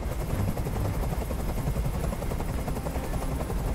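A helicopter flies overhead in the video game Detroit: Become Human, a steady low rotor thump and drone that stays loud and even throughout, with no voices.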